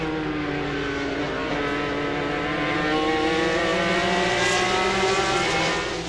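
An Audi race car accelerates hard at Mosport during a 2003 World Challenge Speed GT race, its engine wailing in steadily rising pitch, loud and sustained, with other engine noise layered beneath and no voices.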